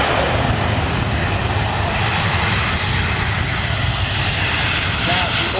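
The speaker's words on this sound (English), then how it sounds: "this Airbus A319 applied takeoff thrust and due to a technical malfunction had to abort the takeoff prior reaching V1" Airbus A319 jet engines roar at takeoff thrust in a dense, steady broadband rush heard close and loud, with no pauses across the stretch.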